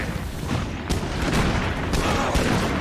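Rapid, loud gunfire from a sniper rifle in the zombie survival game Project Zomboid: a dense run of sharp shots with several stronger cracks spaced across the stretch, over constant background noise.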